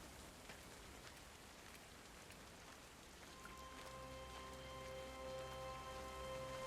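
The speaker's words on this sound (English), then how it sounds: "Such a pretty rain" Steady rain falls in the video game Everybody's Gone to the Rapture, a soft, even patter of drops on surfaces that continues without a break, with a low sustained musical drone rising underneath partway through.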